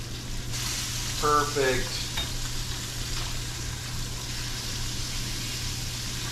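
Snapper fillets sizzling in a frying pan, a steady hiss of hot oil with a brief clatter of flipping and spatula contact early on; a voice speaks a single word.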